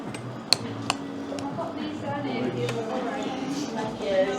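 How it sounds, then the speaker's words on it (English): Close clinks of a spoon against a bowl while sweetener is stirred into porridge at a hotel breakfast, a few sharp taps early on and then a softer scraping, with someone talking over it. "Dig that sweetener in, give it a stir, let it melt in there"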